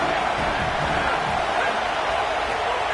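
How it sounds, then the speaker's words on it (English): A stadium crowd in a college football video game roars in a dense, steady wash of cheering and noise, loud and sustained with no clear speech. "This crowd knows this defense needs them right now."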